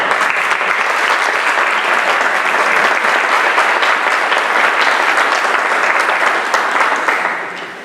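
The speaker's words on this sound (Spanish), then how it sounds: "Un aplauso, ¿no?" A conference audience breaks into sustained, dense applause that holds steady for several seconds before tapering off at the end.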